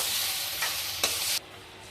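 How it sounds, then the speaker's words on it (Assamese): Loud, steady sizzling of ginger and garlic frying in a hot pan, with a brief stirring scrape partway through before the hiss drops a little quieter. "মই আদা নহৰু কেঁচা গোন্ধ যোৱালৈকে ভাজি নাপালোঁ।"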